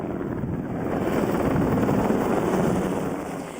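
A helicopter drops water on the flames of the Hughes wildfire northwest of Los Angeles. Its loud, steady rotor roar fills the whole stretch, swelling slightly and easing again toward the end.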